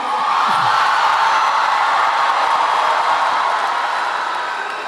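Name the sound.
graduation ceremony crowd cheering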